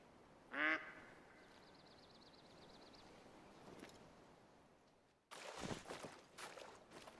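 A duck quacks once, loud and near, as a brief burst of calls early on, followed by faint chirping and then rustling outdoor noise during a moose hunt in New England mountains.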